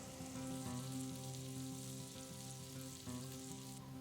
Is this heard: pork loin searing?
yes